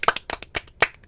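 Four sharp hand claps in quick succession, close and crisp, spaced roughly a quarter second apart with no voices over them.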